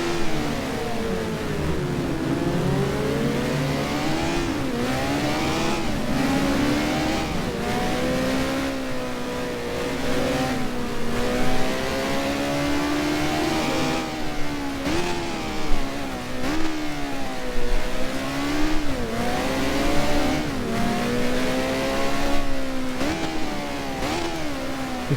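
Race car engines from a 1972-season Formula One racing game rev repeatedly, pitch sweeping up and down through gear changes, with several cars' tones overlapping in a continuous loud drone.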